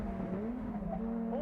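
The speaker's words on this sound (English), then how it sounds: "The front-wheel drive Civic has to ease up on the gas at the corner, but the MRS can keep stepping on it." A front-wheel-drive Honda Civic and a Toyota MR-S race through a corner, engines droning with a rising pitch and a faint tire squeal, moderately close over a short burst, with background speech.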